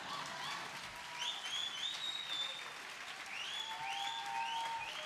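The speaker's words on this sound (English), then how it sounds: "Go ahead, clap them up." An audience at the Texas Film Awards applauds in a dense, sustained wash of clapping with a few whistles rising over it, holding steady from start to finish.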